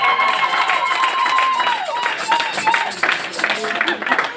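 Congregation at a Sunday church service in Lyon clapping and cheering together in a dense, lively burst, with a voice carrying over the applause.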